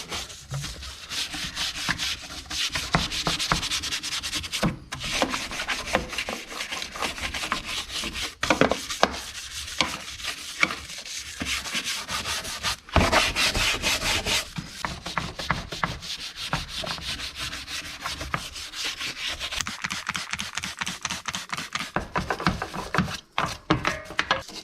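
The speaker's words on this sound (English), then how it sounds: "Work everything loose with this brush." A stiff brush scrubs grime off a car part on an auction rebuild, a steady near, close-up scratching and rubbing that runs continuously in rhythmic back-and-forth strokes with brief pauses.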